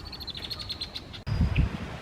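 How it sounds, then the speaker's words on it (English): Outdoors on a forest hike in spring, a male red-winged blackbird calls with a series of short, high chirps, moderately distant over a low rustling background with some wind noise and no speech. "There's a male red-winged blackbird."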